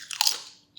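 A single crisp bite into a light, crispy Tattooed Chef tortilla chip, a quick close crunch lasting under a second, with no talk.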